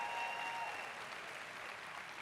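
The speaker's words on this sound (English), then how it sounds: "an applause for the staff of the Green Space" Audience applause for venue staff at an outdoor celebration concert in Central Park, a soft, steady patter of clapping heard at a distance with no voices over it.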